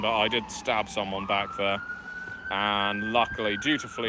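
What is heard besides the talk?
siren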